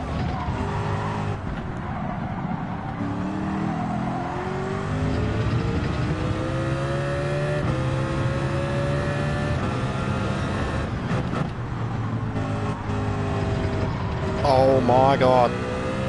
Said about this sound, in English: The rev limit is killing me now.